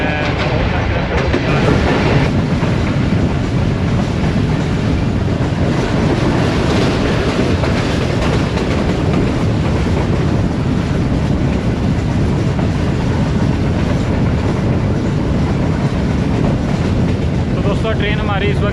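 Loud, constant roar and clatter of the 102 Down Subak Raftar express running at speed between Gujrat and Lahore, heard from inside an AC Standard coach, with rhythmic wheel noise throughout and no voices.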